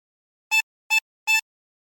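A chromatic harmonica draws on hole 3 three times, giving three short, even, reedy notes with brief silences between them, close and alone.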